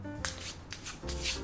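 A deck of playing cards being shuffled by hand, with several close, papery riffling bursts separated by brief pauses and no speech.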